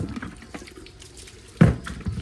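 Water runs from a borewell tap on a farm while water cans are cleaned, a steady wash with a brief louder splash partway through, nearby and alone.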